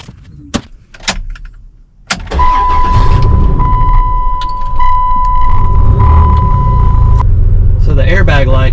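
A few sharp clicks and a door thud, then a car engine starts and idles with a steady low rumble and a faint whine.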